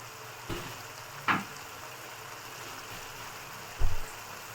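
Egg pepper gravy simmering in a pan, with a few soft, isolated bubbling pops spaced apart over a faint steady background hiss, quiet and close.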